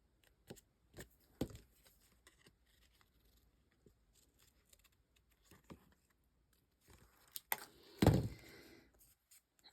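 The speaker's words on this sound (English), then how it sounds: "a quick cut around this" Scissors cutting around a paper craft piece for a gratitude journal, heard as quiet, close, irregular snips and crisp paper rustles, with a louder cluster of cuts and crinkling near the end, no voices.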